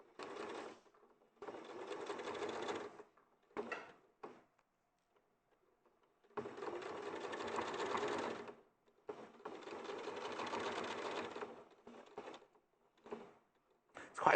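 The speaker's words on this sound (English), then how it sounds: "we're top stitching the pocket on all in the same process" An industrial sewing machine runs in several bursts, closing a bagging-out hole and topstitching a pocket on a garment, with brief pauses between rapid stitching runs and no talk.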